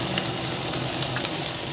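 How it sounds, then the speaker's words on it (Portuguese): Charque, dried beef, frying in hot oil in a pan, giving a steady close sizzle with faint crackles and pops throughout. "E coloquei aqui, ó, pra fritar no óleo."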